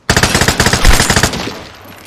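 Automatic gunfire in the online shooter Vigor: a loud, rapid burst of a dozen or so close shots fires in a tight rhythm, then trails into a fading echo with no voices.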